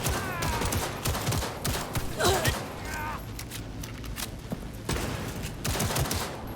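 Rapid gunfire bursts in the video game Cyberpunk 2077 during a firefight, crackling volleys spread through the scene under a player's shouted talk.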